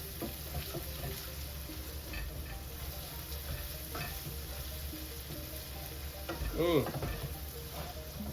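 Ground beef and pepperoncinis sizzling in a pot while being stirred, a steady close frying hiss with soft scraping and clinks of the utensil against the pot, briefly louder near the end.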